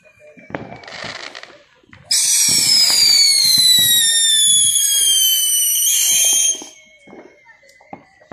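Fourth of July fireworks in a backyard-style setting: scattered pops and crackles, then a long, loud whistling screech of several rising tones for about four seconds. Occasional thuds and crackles continue afterward, with people talking nearby.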